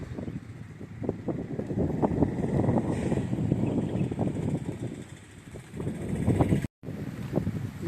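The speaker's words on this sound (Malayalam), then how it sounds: "ഇത്രയും നേരം കാറ്റ് ഇച്ചിരി ഇത് കുറവായിരുന്നു ഇപ്പോൾ നല്ല കാറ്റാണ്" Strong wind outdoors at a hill village junction in Idukki, heard as a continuous buffeting rumble against the microphone with gusts that rise and fall and one brief cutout.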